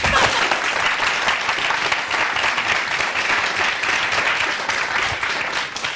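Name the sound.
studio audience applause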